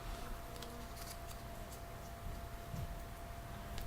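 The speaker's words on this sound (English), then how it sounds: "All you're going to do is just crumple them up." Sprayed paper flowers are crumpled up by hand, giving a close, soft, crinkly rustle with a few sharper crunches in the second half.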